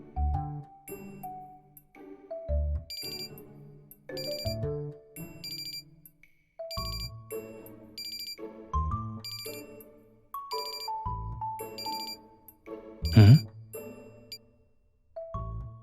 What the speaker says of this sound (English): that's an alarm I set.